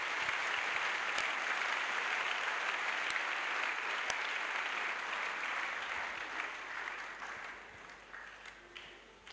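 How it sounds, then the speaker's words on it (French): A congregation at an evangelistic crusade applauding in acclamation of Jesus Christ, dense sustained clapping from a large crowd that gradually thins and fades toward the end. "Acclamation à Jésus-Christ."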